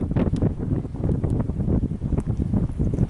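Strong gusts batter the microphone during a large fire in Cyprus, a loud, buffeting roar that surges and dips throughout with no speech.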